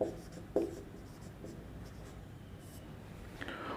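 Short scratches of chalk or marker on a classroom board, a few brief strokes spaced out over quiet room tone during a chemistry naming lesson.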